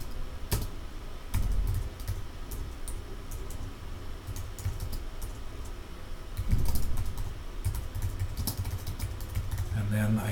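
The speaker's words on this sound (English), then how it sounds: "And then I can type my outcomes here." Fingers tap out text on a computer keyboard at a close distance, quick irregular bursts of clicks with short pauses, while a person talks quietly underneath.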